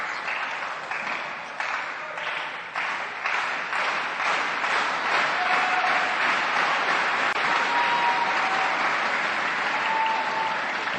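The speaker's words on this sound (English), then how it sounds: "A packed stadium here cheering for FREITAS." A packed stadium crowd cheers and applauds at a table tennis match, the 2015 World Tour Grand Finals men's singles, with a dense, sustained roar of clapping and voices that builds and stays loud throughout.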